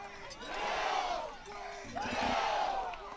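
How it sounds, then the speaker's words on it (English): Wayne Hills supporters at a Passaic County boys soccer final roar in two swelling waves of cheering and shouting, loud and close, each surge rising and then easing off. "Wayne Hills crowd getting fired up"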